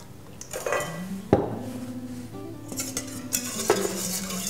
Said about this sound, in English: continue to whisk the dressing together